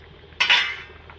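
Prawns being stirred in a cooking pan, a single short clatter of utensil against metal that swells and fades over about half a second, close and fairly loud in an otherwise quiet kitchen.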